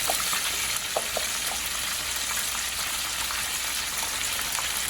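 Okra frying in a pan over medium-high heat, giving a soft, even sizzle and crackle with scattered small pops, fairly quiet and continuous throughout, with no talking.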